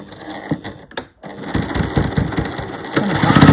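A sewing machine stitches over ribbon on fabric bunting flags, running in a fast rhythmic mechanical chatter after a brief pause, close and loud.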